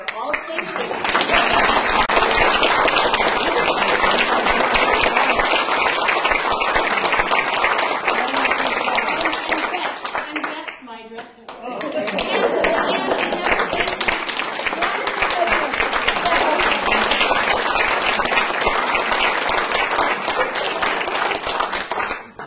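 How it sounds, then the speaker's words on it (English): An audience at an indoor talk in Canastota, New York applauds in a loud, sustained burst of many hands clapping, briefly dipping midway before swelling into a second long round. "One more round of applause."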